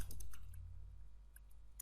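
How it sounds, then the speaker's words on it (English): Typing on a computer keyboard while writing CSS code, a few faint, quick key clicks at the start and end over a low background hum. "I'm just simply typing that"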